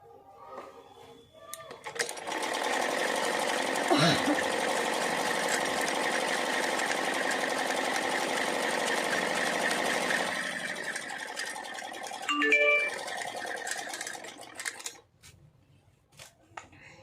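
A home sewing machine runs steadily for about eight seconds while stitching a suit and pants, then slows and stops, followed by a few light clicks and handling sounds.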